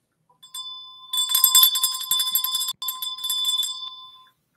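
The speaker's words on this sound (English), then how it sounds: "please ring that bell" A bright bell rings out several times in a quick cluster with a sustained metallic tone, close and clear, with no voices over it.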